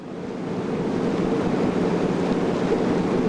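A large cruiser boat moves across lake water in Ireland, giving a steady broadband wash of water and wind noise that swells slightly at the start and then holds even, with no voices.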